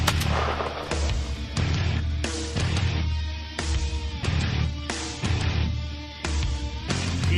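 Rifle shots fired at a buck during a deer hunt: several loud, sharp reports ring out in close succession across the span, each with a short echoing tail over a steady low rumble outdoors.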